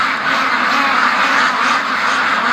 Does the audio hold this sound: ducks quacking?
yes